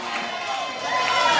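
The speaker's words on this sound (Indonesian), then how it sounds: "Tepuk tangan." An audience at an Islamic educational sermon breaks into applause, a dense, steady wash of clapping from a crowd that swells slightly louder toward the end.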